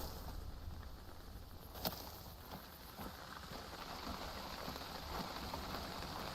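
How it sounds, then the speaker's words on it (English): Steady rain drums on a tent in the hunting game theHunter: Call of the Wild, a dense, even patter that fills the scene, with one sharper drop-like tick partway through and no talking. "Oh, it's the rain on the tent."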